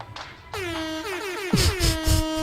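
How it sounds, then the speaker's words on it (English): A blaring air horn sounds in several short, loud blasts, the final bursts punchier and rhythmic, with no talking. "Ghost, I need an air horn right now."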